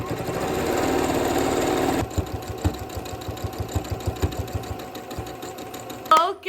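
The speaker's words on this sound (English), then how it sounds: "I'm going to swap out the thread on my machine for a gold so that I can stitch right on top of it" A sewing machine stitching gold trim onto a capelet: a dense, fast whirring run first, then a slower, evenly spaced chugging of single stitches, close and clear before a brief clatter at the end.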